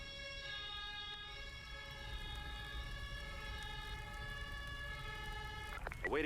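Wailing fire truck siren in the Emergency rescue video game, steady and loud across the whole stretch with a rising swoop near the end.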